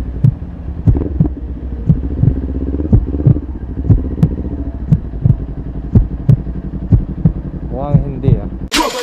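A Kawasaki Ninja 400 motorcycle engine idles close by with a steady low throbbing pulse, loud and regular, ending in a brief louder burst.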